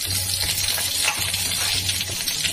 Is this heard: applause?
no